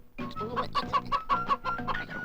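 Chickens cluck and squawk repeatedly in agitated bursts as they are caught, loud and close, with a steady run of calls and no talk over them.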